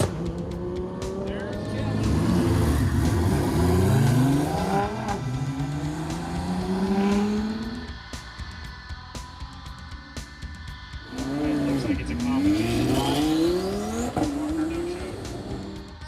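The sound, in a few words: race cars at a racing event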